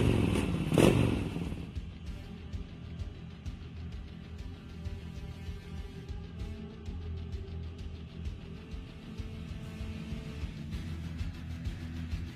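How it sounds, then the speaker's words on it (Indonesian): A motorcycle in Sakura School Simulator starts with a sharp clattering thump, then settles into a steady engine drone that holds through the ride, with light scraping rattles. "Belum pernah aku pakai motor begini."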